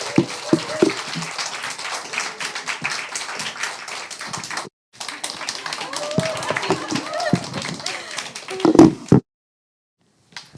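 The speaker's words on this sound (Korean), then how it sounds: "우리 나오실 때 큰 박수로 환영으로 맞이하겠습니다." Church congregation at a Friday prayer meeting claps to welcome a speaker, a dense patter of hand claps lasting several seconds, breaking briefly, resuming, then stopping abruptly.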